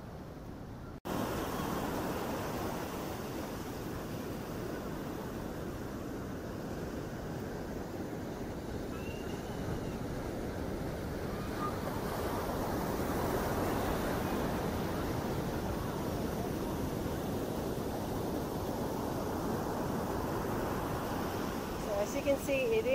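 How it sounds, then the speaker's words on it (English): Strong, high surf at Dreamland Beach, Bali, rolls in as a steady, loud broadband roar of breaking waves with no clear pauses, mixed with a windy rush throughout. "That's the reason why the waves are extremely high."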